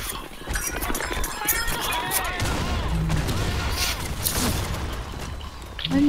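Many bombs go off one after another in a video game, with dense, busy booming and crackling filling the whole span at steady loudness while players talk over it.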